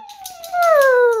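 A pitbull whines and then breaks into a rising, sustained howl, close and loud, with short yelping pulses over the tone and no talking.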